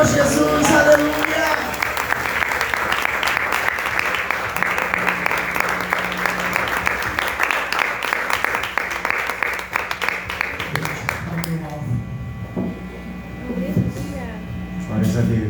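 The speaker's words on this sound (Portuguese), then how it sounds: "Aplauda o Senhor Jesus" A church congregation applauds in a dense, sustained patter of many hands clapping for about eleven seconds, then it fades out as a voice speaks over a faint electrical hum.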